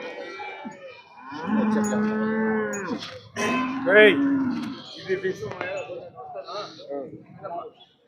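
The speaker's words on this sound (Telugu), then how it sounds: "ఈ ఆవు మరియు ఈ ఆవు ఈ రెండు హెచ్ఎఫ్ ఆవులు" Holstein Friesian cows moo loudly nearby at a cattle market in Punganur, a long low bellow followed by another rising call, with some background rustling afterward.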